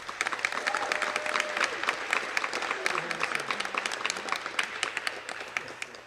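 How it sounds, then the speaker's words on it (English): Crowd applause at a youth recreation girls all-star basketball gathering, a steady patter of many hands from a moderately distant room, with faint voices mixed underneath. "So please give them an applause."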